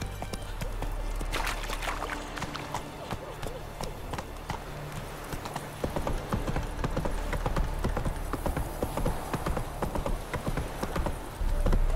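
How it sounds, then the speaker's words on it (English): Horse hooves clip-clop steadily in The Witcher game, a rhythmic trot heard close and continuously with voices talking over it. "Whoa there, Roach. Halt"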